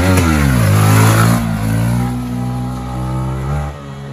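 Yamaha MT-15 motorcycle revving hard in second gear during a wheelie attempt, a loud close engine note that surges, dips slightly and holds a steady high drone before easing off.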